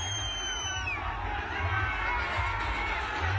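A crowd gathered around politician Ajit Pawar's car at a political rally, a steady dense hubbub of many voices with scattered shouts, fairly close and continuous throughout.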